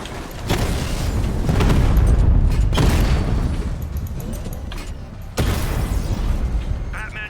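A Diamondback tank is destroyed in Batman: Arkham Knight: rolling booms and explosive bursts rumble close and loud over mechanical game noise, with a fresh blast near the end and a voice in the background.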